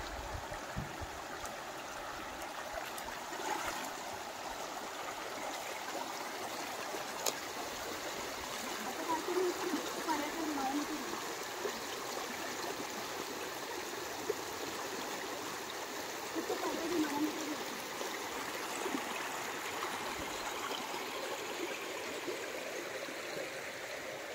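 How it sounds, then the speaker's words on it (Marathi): A clear, slow-moving stream in the Konkan countryside trickles and gurgles steadily over stones, a soft continuous wash of water heard close by with no voices. "पाण्याचा आवाज बघताय तुम्ही, इतका सुंदर आहे, म्हणजे इतका संथपणे वाहतोय ना हा पर्या"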